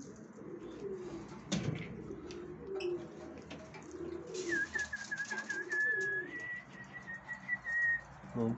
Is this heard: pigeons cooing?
yes